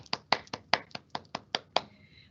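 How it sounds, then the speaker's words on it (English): A few people clapping in unison on a video call for a school's perfect attendance awards, about ten sharp claps in a steady rhythm, near and thin, then stopping. "Huge round of applause to our family."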